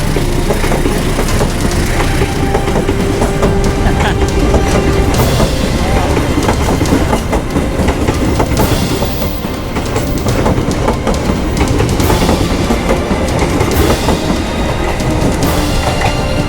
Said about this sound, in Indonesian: Kereta lokal.